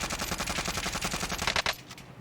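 Rapid automatic gunfire in a shooter video game, a long steady burst of evenly spaced loud shots ending in a couple of heavier reports before cutting off, with no talking.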